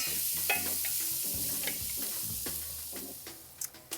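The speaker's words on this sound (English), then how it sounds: "Now that the butter is melted, I'm going to add the onion and cook it just until it's soft." Onion frying in melted butter for a chicken pot pie, a soft continuous sizzle with light stirring scrapes and a few sharper clicks near the end, close and quiet, with no talking.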